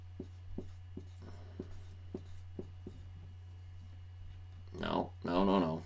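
Marker strokes squeaking and tapping on a whiteboard, a steady series of short, quiet marks close by over a constant electrical hum, followed by a brief burst of talking at the end.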